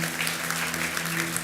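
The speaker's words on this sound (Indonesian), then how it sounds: "Yang setuju berikan tepuk tangan sekali lagi buat Tuhan" Congregation clapping in a church service, a steady dense wash of applause sustained throughout with no voices standing out, over a low constant hum.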